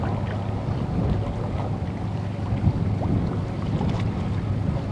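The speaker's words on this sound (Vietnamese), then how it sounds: "Rồi anh tàu nhỏ đâu đây vậy? Rồi bây giờ anh sẽ tăng tốc vô nha các bạn." A small racing speedboat speeds up on open water, its engine a steady, rushing roar blended with wind buffeting and water noise, constant and fairly loud throughout.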